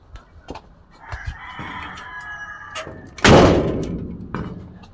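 Chickens cluck and a rooster crows in a drawn-out call, heard nearby alongside a loud thump and some knocking sounds.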